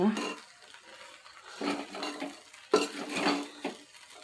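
A utensil scrapes and clinks against a pan as spice powder is mixed into uggani, with several separate stirring strokes at an uneven pace, close and moderately loud.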